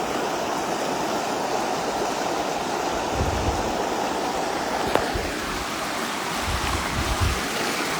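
Waterfall pouring in a steady, loud, broadband rush close by, water crashing continuously with a few brief splashes and low thumps mixed in.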